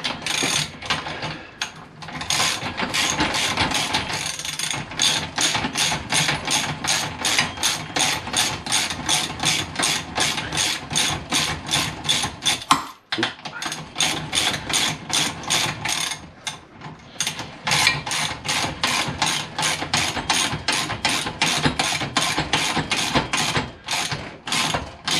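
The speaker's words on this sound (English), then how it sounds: "Taking my ratchet." A hand ratchet tightens a bolt through a Mini R50/R53 rear trailing arm during a Gen 2 R56 alloy arm upgrade, producing loud, close, rapid rhythmic clicking strokes that run almost continuously with one brief pause partway through.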